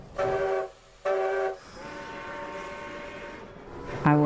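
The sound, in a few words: train sound effect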